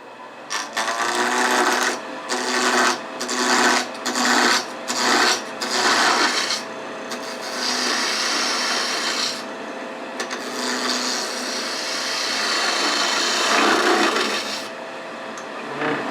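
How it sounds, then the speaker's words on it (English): A 3/8 inch spindle gouge shapes a wooden tulip on a lathe, giving a close, loud rasping hiss that pulses in rhythmic cuts at first, then settles into longer continuous scraping passes. "So again, I'm just going to use a 3/8 inch spindle gouge."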